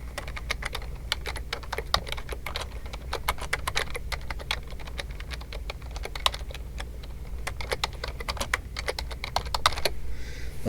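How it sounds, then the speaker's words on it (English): Text being typed on a computer keyboard, with rapid, close key clicks in an irregular rhythm continuing steadily for about ten seconds. "and I just start typing in."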